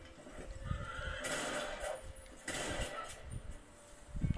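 A horse in the Red Dead Redemption video game whinnies twice in loud, shrill bursts, with faint hoof clip-clops and outdoor game ambience between the calls.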